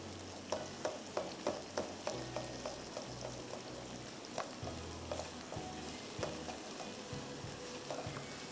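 Onions sizzle steadily in a pan for a rice and tomato chicken casserole, with a continuous soft frying hiss and a run of light rhythmic stirring taps early on.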